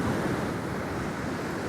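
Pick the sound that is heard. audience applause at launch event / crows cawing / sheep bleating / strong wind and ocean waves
strong wind and ocean waves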